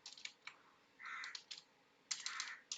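Soft, quick keystrokes on a computer keyboard arrive in small clusters with short gaps, faint and close in a quiet room.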